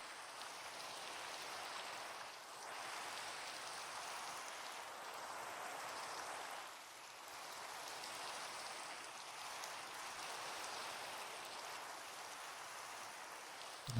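Steady rain falls throughout an outdoor walk, a dense, even hiss of drops that stays moderately loud and constant with only slight dips, with no voices.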